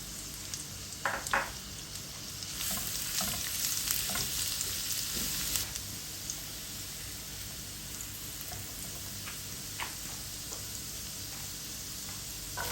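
Ginger and garlic sautéing in corn oil in a pan, a loud continuous sizzle with a louder burst of frying partway through and occasional light clicks of the spatula.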